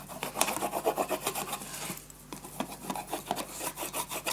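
Paper being burnished in a scrapbook album, soft rhythmic rubbing and rasping strokes, faint and close, with a brief pause partway through and no voices.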